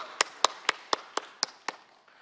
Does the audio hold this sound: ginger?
no